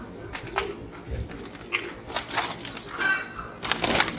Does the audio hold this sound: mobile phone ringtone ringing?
no